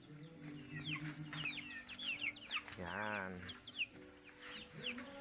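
Chickens cluck in short, scattered bursts over a busy farmyard, with a brief spoken word near the middle.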